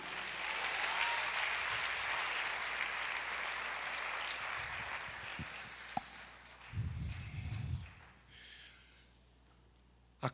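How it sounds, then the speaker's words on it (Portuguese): A church congregation applauds the Lord during a sermon, a broad wash of clapping that slowly fades, followed by a few thumps and shuffling sounds near the end. "aplauda ao Senhor, diga: eu creio"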